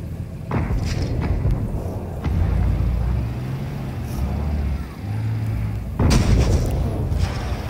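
Tank cannons fire in World of Tanks Blitz gameplay: a couple of heavy booms with a low engine rumble between them, mid-distance and fairly loud.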